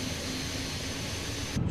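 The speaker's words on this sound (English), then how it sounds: "God damn, the engine sounds so much better from the outside." Airbus A350 jet engine in Microsoft Flight Simulator 2024 heard from outside the aircraft, a loud continuous broadband roar and hiss that cuts off abruptly near the end.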